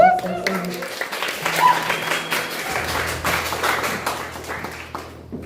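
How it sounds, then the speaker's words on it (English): Audience applause for a singer at the official opening of a Polish arts festival, starting right after a sung note fades: a dense patter of clapping that continues steadily while a low hum sits underneath. "Please give her another round of applause."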